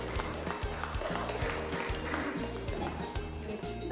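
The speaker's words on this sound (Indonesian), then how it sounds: "Untuk menyemangati diri kita sendiri, boleh tepuk tangan" A classroom of students clapping together in a steady rhythm, evenly spaced claps repeating about twice per second over a low background hum, fairly quiet and with no talk.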